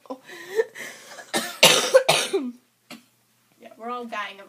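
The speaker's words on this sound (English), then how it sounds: "we're all dying of a cough too." Several sharp coughs in a row from people indoors, loud and close, mixed with throat clearing and short bursts of voice, then a pause before a later stretch of talking.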